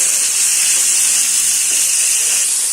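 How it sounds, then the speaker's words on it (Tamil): Onions and tomatoes sauté in a pan with a loud, steady, hissing sizzle that stays even from start to finish, and there is no talking. "இந்த ஸ்டேஜ்ல வெங்காயம், தக்காளி இத கொஞ்சம் வதக்கிக்கிறேன்"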